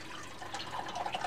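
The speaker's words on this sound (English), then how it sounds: "Get this guy a nice amount of water here" Water is poured into a pet snake's enclosure, a steady trickling and dripping splash that runs throughout at moderate loudness, with no talking.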